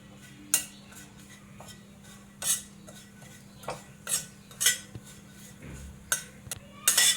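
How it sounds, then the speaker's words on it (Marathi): Grated coconut dry-roasts in a pan for curry leaf chutney, with a quiet background hum and scattered sharp spatula scrapes and clinks against the pan, close and without talk. "हे खोबरं टाकते हे पण आपल्याला हलकंसं भाजून घ्यायचं आहे"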